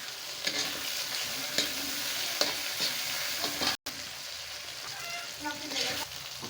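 Small fish (gura mach) frying in a pan with tomato, green chilli, ginger, garlic and turmeric, a continuous loud sizzle with scraping stirs, briefly cutting out midway, no clear talk.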